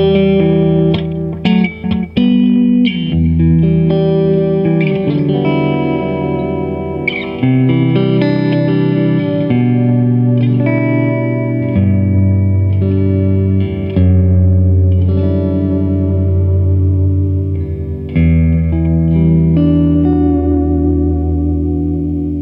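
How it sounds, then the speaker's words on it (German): Way Huge Echo Puss analog delay pedal with chorus modulating the delays: a loud, sustained instrument tone with repeating, wavering echoes trailing each note and a shimmering, swirling wash throughout. "Hier lässt sich zum einen mit Depth die Tiefe des Chorus-Effekts auf den Delays bestimmen und mit Speed auch dessen Geschwindigkeit."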